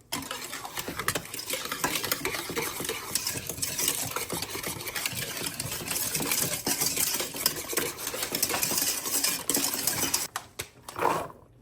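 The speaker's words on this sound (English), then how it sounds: "We're going to fold that egg and cinnamon mixture till all of these pecans are coated" Pecans being folded and stirred in a bowl with an egg, white sugar and cinnamon coating, a steady close scraping and rustling of nuts against the bowl that goes on throughout, ending with a few louder clinks.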